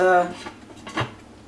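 A metal lid set onto a pot of simmering vegetarian grape leaves, giving a brief clattering clink of cookware followed by a softer knock, close by and short.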